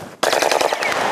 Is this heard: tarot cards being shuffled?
no